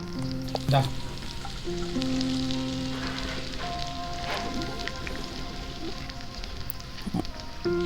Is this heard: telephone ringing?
no